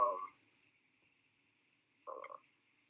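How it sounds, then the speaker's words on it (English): A phone alarm goes off in two short bursts of a ringtone, a brief chirp at the start and another about two seconds later, faint with quiet between. "that was my alarm going off on my phone"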